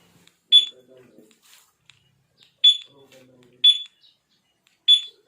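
A Suzuki Smash 115 motorcycle's two-way alarm remote gives four short, sharp electronic beeps spaced a second or two apart, with quiet background murmuring between them.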